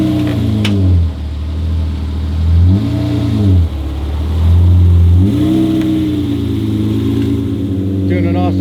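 A Lamborghini engine revs in low surges as the car is moved during a police impound in Beverly Hills, loud and close, with the pitch rising and falling several times and faint voices in the background.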